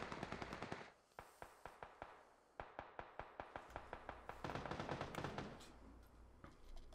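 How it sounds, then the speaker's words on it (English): Rapid bursts of gunfire from the battle royale game PUBG, sharp repeated shots in quick volleys with brief pauses, dense and loud throughout. "Damn, that's a lot of shooting."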